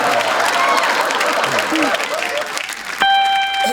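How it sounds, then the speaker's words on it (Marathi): An audience at a Marathi comedy stage show applauds, with dense, continuous clapping and crowd noise that stops abruptly near the end, where a brief electronic tone follows. "टाळ्या वाजवा रे भाऊ"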